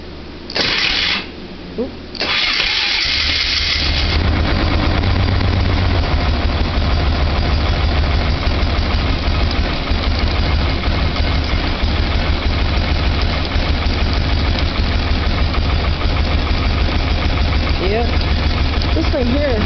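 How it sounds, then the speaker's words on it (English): A Polaris ATV four-wheeler engine cold-starts after brief cranking bursts, then settles into a loud, steady, close idle that runs on at length, with a short voice near the start. "Let's do another start."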